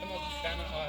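Sheep bleating among a flock of pregnant ewes with large lambs offered for sale, the calls fairly close and overlapping under a person talking throughout.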